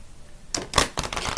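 Tarot cards shuffled by hand close up, a quick burst of crisp riffling clicks and flutters lasting about a second after brief quiet.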